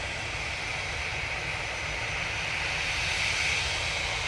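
An EasyJet airliner's jet engines approach at Manchester Airport, a steady broad roar that swells slightly toward the end, fairly faint and with no talk over it.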